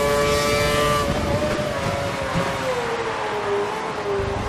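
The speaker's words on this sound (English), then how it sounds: "Car behind is running standard revs." Formula One race car engine from the F1 2012 video game, Valencia circuit, droning at steady high revs with a slowly shifting pitch, loud and continuous throughout with no voices.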